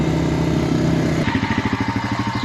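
An old Honda four-wheel-drive ATV engine runs steadily, then its note drops and settles into a pulsing, rhythmic chug as the machine is shifted, close and fairly loud.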